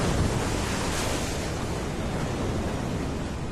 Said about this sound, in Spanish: Un huracán.